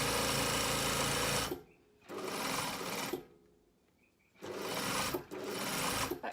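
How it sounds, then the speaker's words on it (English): Sewing machine stitching down the short edges of a shirred jumpsuit with back tacking, steady close whirring in three bursts separated by brief pauses. "So back tacking, holding the edges close together and sewing all the way down."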